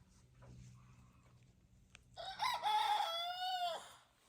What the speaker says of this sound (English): He's a rooster.